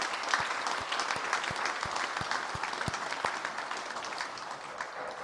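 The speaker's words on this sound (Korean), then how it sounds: "어린이부 학생들을 위해서도 잘했다고 축복하는 박수 한번 하겠습니다" A church congregation at a revival meeting applauds steadily in a large hall, a dense, continuous wash of many hands clapping at a fairly loud level, with a few sharper individual claps standing out early on.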